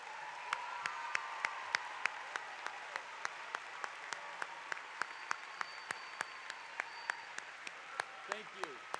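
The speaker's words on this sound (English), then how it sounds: "Give them a big round of applause." A graduation commencement audience applauds at a 2014 fall ceremony, the sound distant and faint, with sharp individual claps standing out rhythmically above a soft wash of clapping; a voice is faintly heard near the end.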